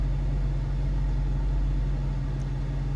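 A 2023 Dodge Charger R/T Blacktop Edition engine idles with a steady, deep, even rumble heard up close and alone, with no revving.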